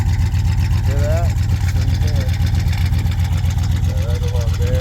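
Car engine idling with its exhaust rumbling in a low, steady pulsing drone close by, a voice briefly speaking over it now and then.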